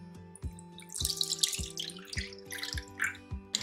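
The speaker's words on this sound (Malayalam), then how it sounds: "ആദ്യം തന്നെ നമുക്ക് ഒരു പാനിലേക്ക് പാല് ചേർത്ത് കൊടുക്കാം" Milk, about two cups, poured into a cooking pan. It makes a steady liquid trickle with splashy, dripping detail and a few small knocks, heard up close with no talking.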